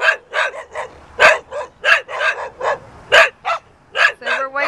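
A dog barks repeatedly in excited greeting, a quick series of close, loud yips and barks with a rising whine at the end, while a person talks over them.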